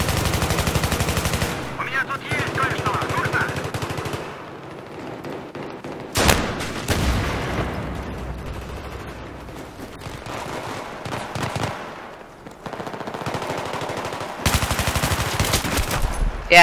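Bursts of automatic gunfire from teammates in an online shooter game, loud rapid rattling volleys separated by quieter gaps, with sharp single shots between them.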